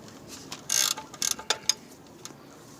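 A 17 mm wrench ratchets a car's oil drain plug tight, giving a quick burst of clicking followed by several sharp metallic ticks, close up with no voices.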